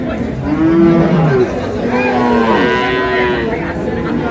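Sahiwal cows and calves low at a crowded rural cattle market in Ambari, Dinajpur, with loud, close, drawn-out moos sounding over steady market murmur.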